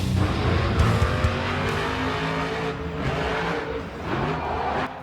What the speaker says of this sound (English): so it is a monster truck